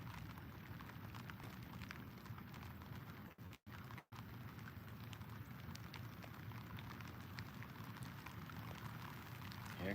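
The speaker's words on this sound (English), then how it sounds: "Here come that rain again." Rain falls over a lake with lily pads during kayak fishing, a steady, faint, diffuse patter of drops with a couple of brief gaps and no talk.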